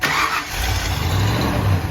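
A 1993 Ford Bronco engine cranks with a short starter whir, then catches and settles into a loud, low, rumbling idle.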